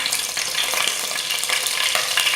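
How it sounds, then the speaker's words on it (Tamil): Whole cinnamon and cardamom fry in hot ghee for chicken biryani, a steady close bright sizzle with light stirring throughout. "தாளிக்கிறதுக்கு எடுத்து வச்சுருக்க பட்டை, ஏலக்காய் எல்லாத்தையும் போட்டுடலாம்."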